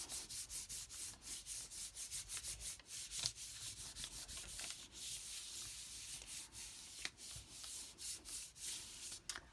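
Paper is rubbed by hand over an inked lino block for a second print, giving a steady run of rhythmic, close, dry swishing strokes with brief pauses between passes.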